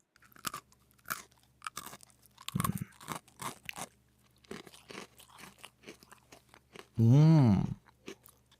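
A crunchy peanut cookie is bitten and chewed close to the mic. Sharp crunches and softer chewing come in uneven bursts with brief pauses, then a loud voiced hum near the end.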